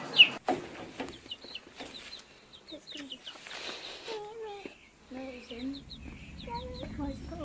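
A chicken clucks in short, repeated bursts close by, rising and falling in soft murmuring calls, while babies and adults talk and giggle around it.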